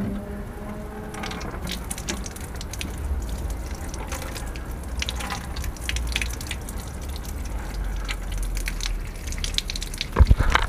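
Running water rinses a primed RC car hardbody, a steady close gush and spatter of liquid with small drips and splashes, ending in a couple of louder knocks.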